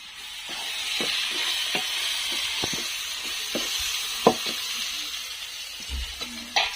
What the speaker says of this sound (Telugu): కాసేపు ఇట్లా ఉల్లగడ్డ టమాటా మరి వేసిన మిరపకాయలు నూనెలో మగ్గిద్దామండి